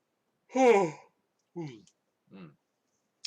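A long drawn-out yawn with a sighing, voiced quality, trailing into two shorter breathy exhales; close and fairly loud, with no talking.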